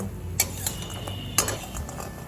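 A few bori lentil dumplings frying in mustard oil heated over a medium gas flame, a constant soft sizzle broken by two sharp metal clanks of a spatula against the pan.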